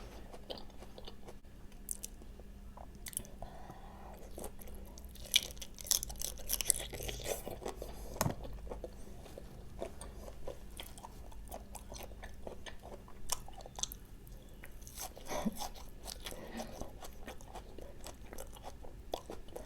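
Close, wet chewing and crunching of spicy Thai-style pounded fresh jumbo shrimp, irregular bites and mouth sounds continuing steadily with no talk.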